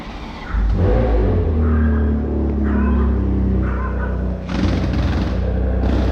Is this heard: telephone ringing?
no